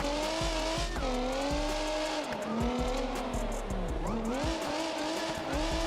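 A V6 drift car in BeamNG slides through corners, engine revving and falling with loud tire squeal and skidding, close and continuous with no talk.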